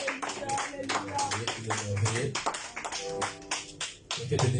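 A church congregation at a deliverance service claps loudly in a steady rhythm, with voices cheering and calling out over the sustained clapping.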